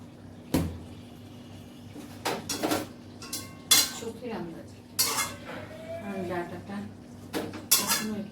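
Metal clanks and scrapes of a utensil against a cooking pot as food is stirred, irregular knocks with quiet gaps between them.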